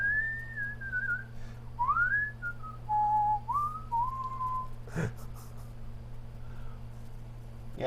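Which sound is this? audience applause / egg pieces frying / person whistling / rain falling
person whistling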